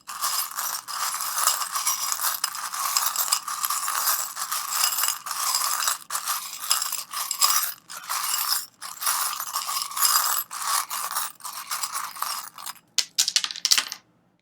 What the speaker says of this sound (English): I am now going to start shuffling the charms.